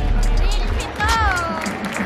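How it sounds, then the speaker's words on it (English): Live audience applause for the esports team Onic PH at a showmatch, a loud, continuous crowd roar of clapping and cheering close by, with voices mixed in. "let's give round of applause for Onic PH!"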